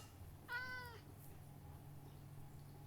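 A cat meows once in Minecraft, a single harmonic mew over a steady low game hum while the player is trying to tame it in survival mode.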